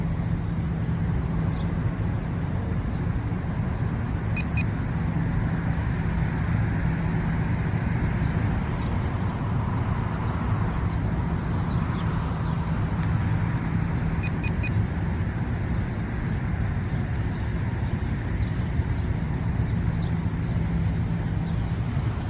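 A small Amazon RC mini plane's motor runs at half throttle in a steady, continuous drone with faint high beeps, heard from a moderate distance against outdoor background noise for over twenty seconds.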